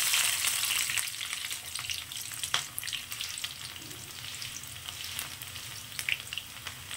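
Curry leaves, onion, fenugreek and aloe vera fry in hot oil, a steady close sizzle broken by scraping stirs and occasional sharp crackles, with no voices.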